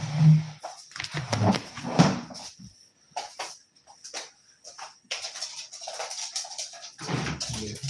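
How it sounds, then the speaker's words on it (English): A dog is let out indoors with clunks like a door or cupboard opening and closing, then scattered soft whimpers and thumps with quiet gaps between them. "I'm just going to let the dog out quickly."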